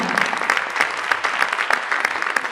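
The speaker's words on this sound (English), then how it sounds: "Please clap for yourself." Dense applause from an audience at a university inaugural lecture, steady many-handed clapping filling the hall at moderate loudness, with faint voices underneath.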